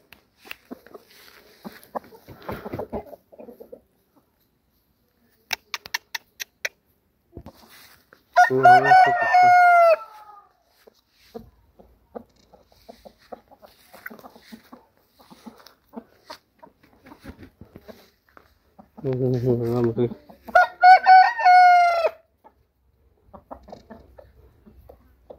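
Aseel chickens on a free-range farm: a rooster gives two loud cock-a-doodle-doo crows, and scattered soft clucks and scratchy noises fill the gaps, heard close and clear.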